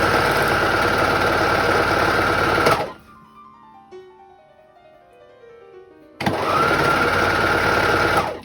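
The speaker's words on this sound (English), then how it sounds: "And then I'm gonna stitch them together." A sewing machine stitching fabric for holiday dressmaking: a steady fast mechanical whir that stops for a few seconds of near silence, then starts again, close and loud.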